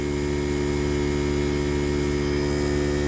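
A Viair portable RV air compressor runs with a steady, droning motor hum and buzz, unbroken and fairly loud throughout, with no talk over it.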